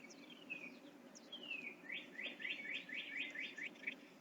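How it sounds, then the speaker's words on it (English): Birds chirping in a backyard with crows, a woodpecker and a blue jay, a series of rapid repeated tweets and a couple of descending whistles, faint against a quiet background hum. "Listen to the birds!"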